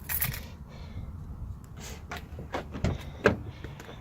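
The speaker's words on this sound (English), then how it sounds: "I'll open the door here so you can see it better." A car door opens with several sharp clicks and clunks of the latch and handle over a low, steady rumble, close by, with no talking.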